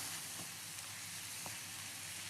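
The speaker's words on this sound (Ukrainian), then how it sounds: "Перемішуємо і смажимо ще 2-3 хвилини." Steady sizzling from mushrooms and onions frying in a hot pan, a constant crackling hiss with a few faint stirring knocks, no voices.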